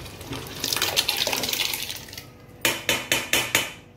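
Thick pav bhaji vegetable curry, a large batch, bubbles and spits vigorously in a pot, then a ladle knocks against the rim five times in an even rhythm.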